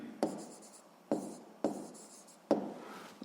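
Chalk or marker writing on a board during a physics lesson, four sharp taps each followed by a brief scratchy stroke, faint and close in a quiet room.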